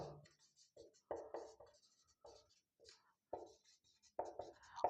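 Writing during a lesson on Indian polity comes through as short scratchy strokes in quick bursts separated by brief silences, close and fairly quiet.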